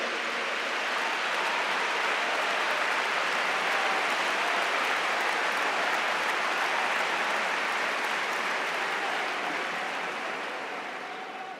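Long, dense wall of audience applause at a European conference event, steady and loud throughout, easing slightly near the end.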